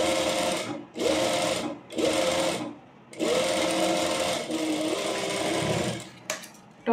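Sewing machine top-stitching a pleated petticoat, running in several steady bursts separated by short pauses, close and loud, with a brief handling clatter near the end.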